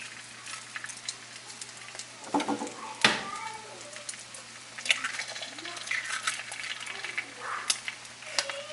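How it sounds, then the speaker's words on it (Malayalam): Three eggs crackle and sizzle in a little oil in a shallow uruli pan, a steady frying hiss with scattered pops and a few louder clatters of stirring near the start. "ഇനി നമ്മൾ ഒരല്പം ഓയിൽ ആ സെയിം ഉരുളിയിലേക്ക് തന്നെ ഒഴിച്ചിട്ട് ആ 3 മുട്ട ഒന്ന് കുത്തിപ്പൊരിക്കുകയാണ്."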